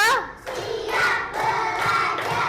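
A group claps out a rhythmic counted pattern in short bursts, the hand claps close and punchy, with a voice speaking over them between groups of beats.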